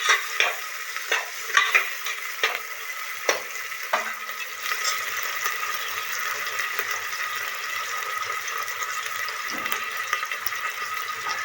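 Onion, garlic and tomato fry in a pan for dal khichdi, a continuous bright sizzle opening with a few sharp stirring clinks and spoon taps, then settling into an even hiss.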